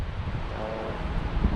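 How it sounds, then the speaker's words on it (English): Low, rumbling wind noise buffets the microphone continuously for a brief moment, with no voices. "Nice day, a little bit windy,"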